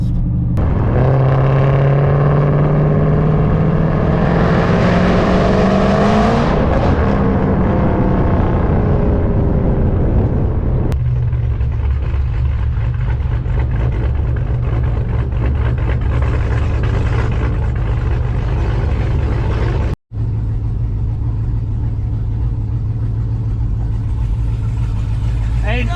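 A 1500hp Jeep Trackhawk SUV with a 426 Hemi engine, driving: a loud, continuous engine roar that climbs in pitch as it revs early on, then settles into a steady heavy drone, with a brief cut near the end.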